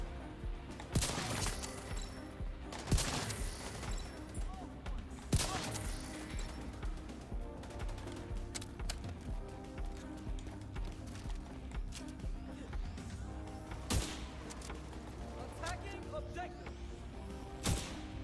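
Gunfire in The Division 2, single heavy shots spaced a few seconds apart over a continuous bed of game noise, each one sharp and loud.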